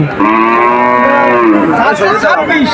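A calf at a cattle market gives one long, loud moo close up, its call rising and then breaking into a rougher, wavering end.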